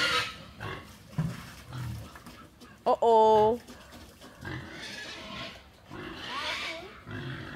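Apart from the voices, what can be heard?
pigs grunting while being fed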